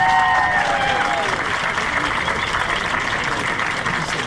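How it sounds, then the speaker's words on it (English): A crowd applauds students of a school jazz ensemble on stage, steady dense clapping held at a loud, even level throughout, with a few sustained instrument tones fading out at the very start. "Let's give them another round of applause."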